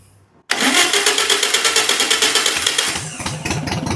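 A VW Beetle that has sat unused for over 20 years, with holes in its exhaust, cranks briefly and then fires into a loud, close, rough rhythmic chugging, which settles into an uneven idle.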